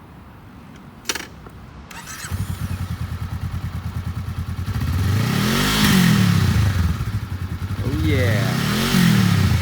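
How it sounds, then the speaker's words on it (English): A used 2019 Honda Rebel 500 ABS lightweight cruiser motorcycle idles with a steady thrum, then its engine revs up loudly twice, close by, while someone speaks briefly over it. "Awesome Rebel 500 ABS."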